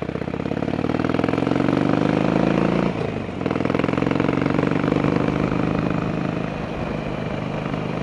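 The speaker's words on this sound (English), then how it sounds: "So my Sportster is totally stock, and I'm okay with that. I don't need super loud exhaust." A stock-exhaust 2008 Harley-Davidson Sportster 1200 Roadster engine runs with a steady, throbbing mid-range rumble, close and continuous, dipping briefly before settling back into its even beat.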